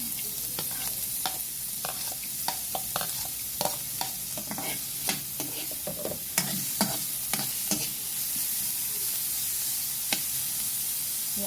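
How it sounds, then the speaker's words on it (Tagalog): Garlic sautéing in a pan for ginisang patola, a steady frying sizzle with repeated sharp scrapes and clicks of stirring throughout, close and moderately loud, with no talk. "Lagay ko na rin yung bawang."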